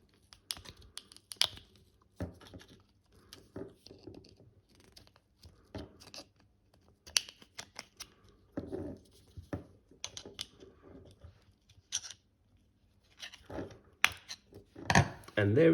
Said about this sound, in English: We'll start prying this cover out with a screwdriver and we'll start from this slot.